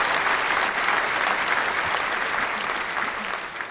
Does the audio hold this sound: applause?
yes